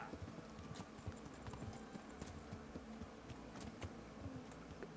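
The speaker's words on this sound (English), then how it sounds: "Yeah, look at Radzig's horse right there." Horse hooves clip-clop steadily in Kingdom Come: Deliverance, a quick, even gait moving across the medieval game world at moderate distance with faint ambient background and no voices.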